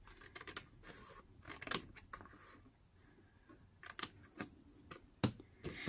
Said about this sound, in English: I'm gonna cut it here between the first score line from the corner which I just cut off.